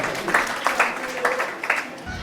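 An audience applauds for a speaker at a mental health resource donation event at Kissy Mental Hospital, a steady spread of clapping with some voices mixed in.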